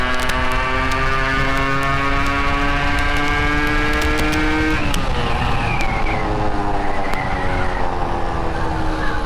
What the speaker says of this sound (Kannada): ಸಖತ್ ಫಾಸ್ಟೇಜ್ ಇದೆ ಗಾಡಿ